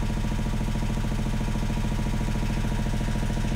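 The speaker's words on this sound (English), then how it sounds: "So the engine's going." A vehicle engine idles steadily close by, a loud, even mechanical drone with a rapid regular pulsing clatter, with no voices.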